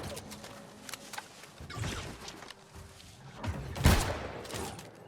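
Gunfire rings out in the online game New World during an Outpost Rush match: a few separate bursts of shots, fairly faint, mixed with scattered game effects.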